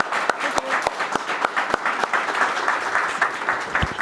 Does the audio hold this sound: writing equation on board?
no